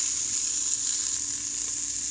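A ginger, garlic and cilantro mix hits hot oil in an Instant Pot for vegetable pulao and sizzles with a steady, close, hissing fry at an even level and no voices.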